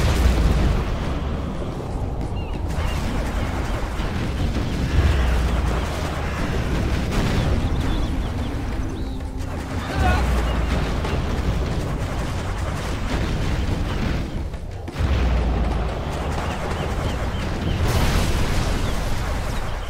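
Repeated heavy cruise missile explosions in Command & Conquer Generals Zero Hour, deep booming blasts rolling in waves across a continuous battle din with little speech.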